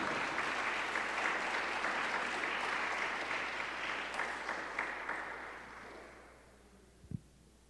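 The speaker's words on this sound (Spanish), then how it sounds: "dele un aplauso al Señor" A church congregation at a Christmas service claps in dense, sustained applause that gradually tapers and fades out, ending with a single soft thump.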